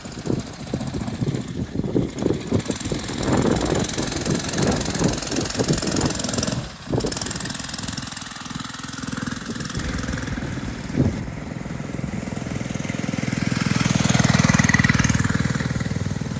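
A Predator engine on a homebuilt minibike runs with a rough, loud chugging putter, pulsing unevenly at first, briefly cutting out, then settling into a steady idle drone that swells louder near the end.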